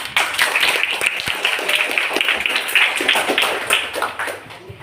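Children clapping together in a classroom, a steady patter of many small hands sustained for several seconds at moderate loudness, fading slightly at the end.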